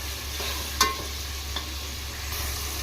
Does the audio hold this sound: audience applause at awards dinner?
no